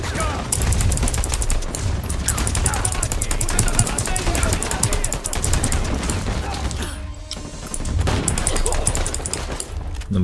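Rapid turret machine-gun fire in Uncharted 4 at a cathedral, loud sustained bursts that dominate most of the clip and break off briefly near the middle before resuming, with voices underneath.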